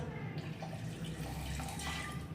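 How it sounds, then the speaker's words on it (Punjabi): Half a glass of water poured into a pan while making a healthy homemade recipe, a steady close watery trickle running for a couple of seconds with no talking. "ਇਹਦੇ ਵਿੱਚ ਅੱਧਾ ਗਲਾਸ ਪਾਣੀ ਦਾ ਪਾਉਣਾ ਹੈ ਜੀ"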